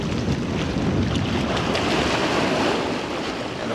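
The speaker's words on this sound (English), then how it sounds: "where it hits those rocks, it kind of makes some pretty big swells" Waves and swells break and churn against rocks near a shoreline, a loud continuous wash of surf roar mixed with wind buffeting, close and steady throughout.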